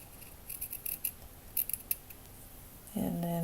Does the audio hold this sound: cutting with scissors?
yes